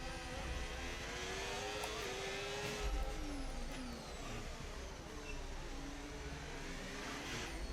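An F1 car in the F1 25 racing game at Monaco screams through gear changes with rising and falling engine whine, other cars audible around it. The engine note is continuous and moderately loud.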